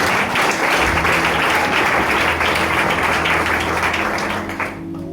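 A congregation at a church wedding service breaks into loud, sustained applause that fills the space evenly for several seconds, then tapers off right at the end.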